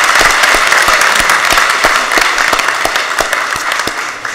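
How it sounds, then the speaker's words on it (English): A hearty round of applause fills the Philadelphia City Council chamber during a stated meeting, with loud, close clapping and sharp individual claps that fade slightly toward the end. "Let's give them all a"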